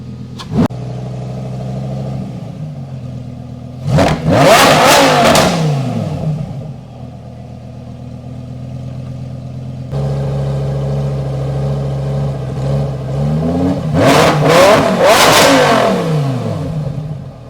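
A Lamborghini Huracan Technica fitted with a Ryft titanium exhaust idles with a steady burble, then is revved hard twice, each loud, close burst climbing to a sharp high-rpm scream before dropping back to idle. No one speaks.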